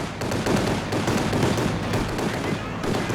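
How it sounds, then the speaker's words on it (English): A strafing run in Company of Heroes 2 sends out a dense, continuous rattle of gunfire with booming impacts, steady and loud throughout. "So he's bringing through the strafe."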